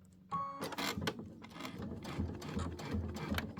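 A sewing machine runs steadily, tacking down a dimensional fabric sunflower on a wall hanging, its needle clattering in a fast even rhythm with a brief pause early on, close and alone.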